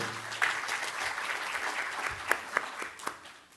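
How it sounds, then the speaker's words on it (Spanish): Audience applause for a guest doctor at an intellectual property training programme for judges, a steady wash of clapping with a few sharper claps standing out, moderately loud throughout. "Un aplauso también, por favor, para el doctor"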